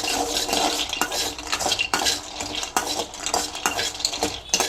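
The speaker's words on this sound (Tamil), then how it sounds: "அப்புறம் அதே பாத்திரத்தில் வந்து நம்ம எடுத்து வச்சுருக்க முந்திரி பருப்பு சிம்மில் போட்டுட்டு லைட்டாக வச்சுக்கலாம்." Cashews being roasted in a pan on low heat for dry fruit laddu, with busy close-up stirring and clattering of a utensil against the metal pan over a light frying hiss.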